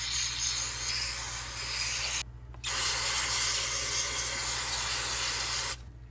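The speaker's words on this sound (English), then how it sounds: "I'm gonna spray in here." Two long hissing bursts of carburetor cleaner sprayed into a Toyota RAV4 throttle body, close up, separated by a short pause, with a low steady hum underneath.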